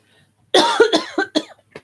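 A person coughs in a quick burst of four or five harsh coughs, close and fairly loud, with silence around them.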